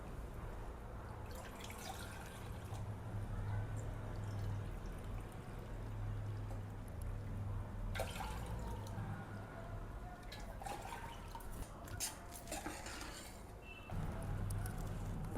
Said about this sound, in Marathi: इथं 3 वाट्या पाणी घ्यायचं आपल्याला।